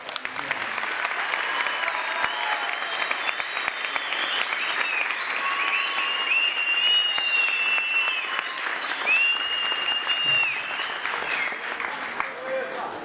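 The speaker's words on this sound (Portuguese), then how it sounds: "eu gostaria que vocês recebessem com muito carinho, uma salva de palmas" An audience at a Flipoços 2008 event applauds to welcome a speaker onto the stage, a sustained, loud and dense wave of clapping that lasts throughout, with whistles and cheers rising above it.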